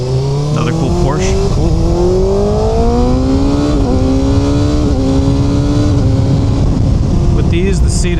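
A Porsche car driving past, its engine note rising and sweeping through a loud, close pass with a steady roar that fades slightly at the end, while a person talks over it.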